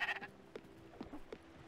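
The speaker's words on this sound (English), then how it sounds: "Stinking goats." Goats bleat in the farming game Spiritfarer, giving several short, faint cries spread across a brief stretch with a quiet game background and no talking.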